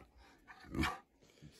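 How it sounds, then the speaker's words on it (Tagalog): A St. Bernard dog gives one short, fairly close bark over faint background chatter at a mountain pass in France. "San Bernard, the dog."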